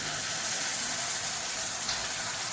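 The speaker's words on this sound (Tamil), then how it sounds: "இப்போ இதில் புளி தண்ணி சேர்த்துக்கலாம் கொஞ்சமாக." Tamarind water pours steadily into a pan with a soft, continuous gushing hiss, close by and unbroken for a couple of seconds.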